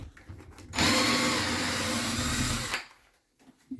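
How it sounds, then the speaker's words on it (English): A power drill or driver backs a screw out of drywall, a loud steady whirring burst lasting about two seconds up close, with faint handling noises before and after. "Like I'm gonna remove this screw."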